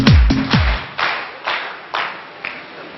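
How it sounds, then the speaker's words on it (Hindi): An audience claps for itself in a talk hall, a few loud bursts of clapping spaced about half a second apart that quickly die away. "एक बार आप अपने खुद के लिए ताली बजाओ।"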